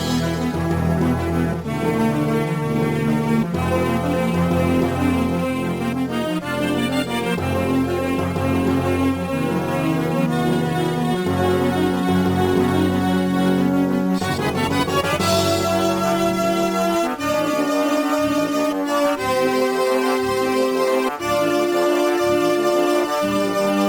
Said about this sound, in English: I used a sliding stretch, and I made the tempo go slower